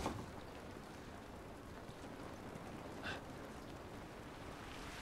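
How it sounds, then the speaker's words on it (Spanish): Steady, soft hiss of rain falling outdoors in the video game The Last of Us, a faint continuous wash with a brief splash or rustle midway and no talk. "Esta lluvia no nos va a ayudar."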